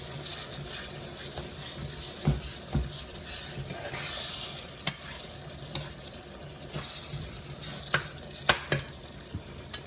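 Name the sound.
sauteing eggplant filling in a pan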